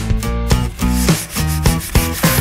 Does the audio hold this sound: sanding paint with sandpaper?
yes